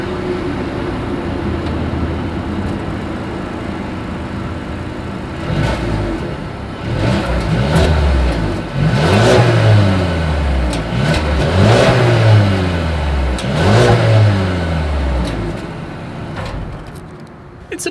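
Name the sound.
2020 Mercedes-Benz A220 exhaust revving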